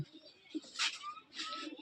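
Soft, low cooing from a female pigeon nearby in a few short phrases, with brief higher rustling and fluttery noises between them.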